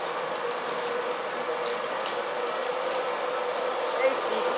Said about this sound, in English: there's a VTEC 91 on the back of it